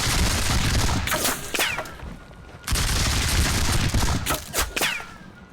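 Musket volleys in WDS War of the Austrian Succession roll out as dense, loud crackling bursts of massed fire, one long volley breaking off and a second starting, with scattered distinct shots mixed in.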